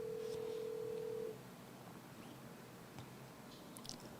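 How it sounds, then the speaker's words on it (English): A telephone tone sounds during a morning broadcast as a phone call is placed, a clear steady pitch for about a second before cutting off, followed by quiet room noise with faint clicks. "we're going to be doing a phone call with our buddy Landon here"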